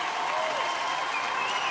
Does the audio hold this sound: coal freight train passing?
no